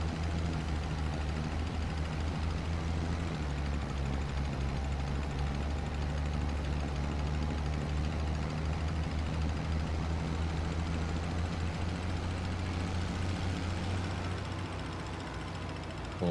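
Tractor engine running steadily in Farming Simulator 25, with a low droning hum and a faint belt-like whine underneath, continuous and fairly close throughout.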